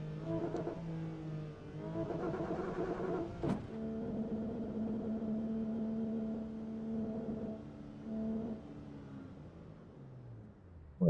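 Engine of a car in the racing game AC EVO revving on launch control, a steady held rev with harmonic drone, a brief higher blip midway and rev changes near the end, with no talk.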